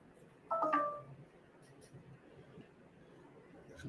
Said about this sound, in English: The phone going off over here today